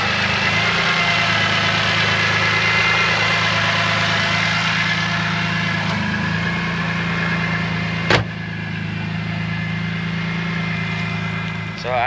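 A BMW E92 engine idles with a steady low rumble, close and even, fitted with a Ridgeline GT3 front lip, with one sharp click partway through.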